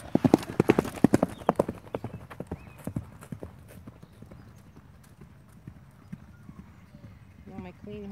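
A horse moving fast, its hooves beating a quick, loud clip-clop rhythm up close that fades as it moves away, with a soft whinny near the end, while a person talks.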